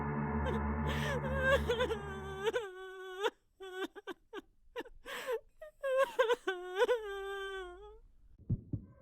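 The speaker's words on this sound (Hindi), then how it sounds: "दरवाजे के बाहर से किसी के रोने की आवाज सुनाई देती है।" Someone crying outside a door in a horror story setting, with whimpering, moaning sobs in uneven bursts, fairly close, after a brief stretch of other noise at the start.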